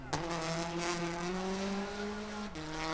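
An R5 rally car slides around the Pirelli Tower at the Monza circuit, smoke pouring off its rear wheels as the engine holds a loud, sustained, slowly rising drone with a brief dip near the end.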